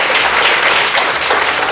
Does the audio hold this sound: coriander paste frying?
no